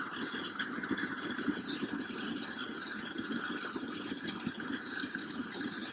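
A torch flame plays on foam insulation in a Tstud wall burn demonstration, giving off a steady, moderate roaring hiss that continues without break.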